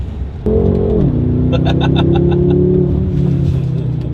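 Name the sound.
car engine induction noise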